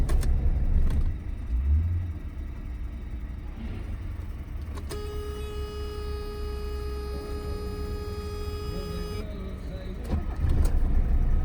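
A 1981 Mercedes-Benz turbo diesel engine rumbles close by, settling into a steady idle with a thin whine rising over it, then swelling again near the end.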